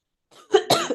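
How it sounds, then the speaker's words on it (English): A person coughs close into a microphone, one faint breath followed by two loud, harsh coughs in quick succession within a second. "me coughing into the mic"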